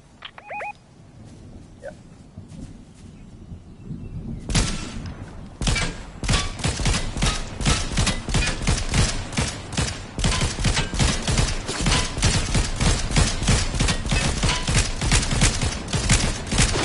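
Rapid, loud gunfire crackles in a battle royale video game, starting sparse and building into a sustained dense barrage of sharp cracks from about five seconds on, with no talking.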